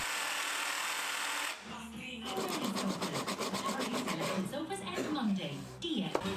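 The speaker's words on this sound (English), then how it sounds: "which I cut out using a jigsaw." A jigsaw cuts curved front corners on a workshop rack, giving a close, buzzing, reciprocating rasp that starts after a brief quieter lead-in and keeps going with uneven intensity to the end.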